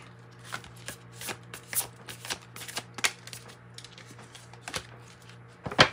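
Moonology oracle cards are shuffled by hand in a series of quick riffling, flicking bursts, close and crisp with a louder flurry at the end, heard alone without talk.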